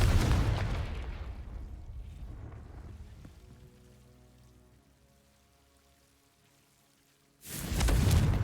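Confringo fire spells blast in the Hogwarts Legacy video game: a loud booming burst opens, rumbles and fades into a quiet tail, then a second heavy blast erupts near the end.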